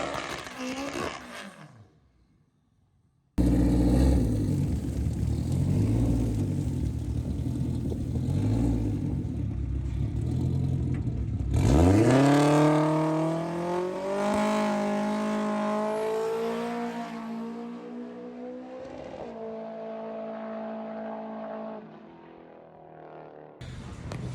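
A turbocharged Honda K24 engine in a rear-wheel-drive drag car on an eighth-mile pass roars loudly from launch, with a steady drone and then rising revs through the gears before it fades off into the distance.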